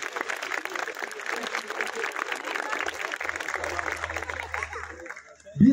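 Sustained audience applause for the women at a wedding-advice address by the mayor of Kütahya, a steady dense clatter of many hands that holds for several seconds, then thins out as a low hum and a sharp nearby noise come in at the end.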